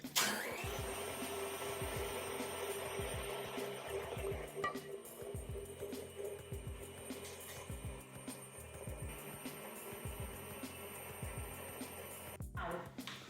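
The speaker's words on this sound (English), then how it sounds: "Important to start adding milk little at the time while we're whisking on high speed." Electric hand mixer whisking hot milk into egg yolks on high speed for éclair pastry cream, a steady close motor whir with rhythmic beater knocks against the bowl, no talking.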